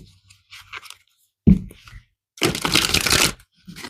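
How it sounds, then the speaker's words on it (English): Tarot cards being shuffled by hand, with a few soft crisp riffles and card slaps broken by short pauses, close-up and fairly quiet, no voice. "let's pull some tarot cards here"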